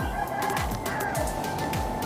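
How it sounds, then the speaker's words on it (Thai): Neighbouring chickens crow and cluck in a garden setting during outdoor brick-laying work. The calls repeat steadily across a short stretch, moderately close, over a constant background hum, with no one speaking. "แหมไก่ข้างบ้านนี่ก็ร้องกัน เสียงใสทีเดียวเชียว"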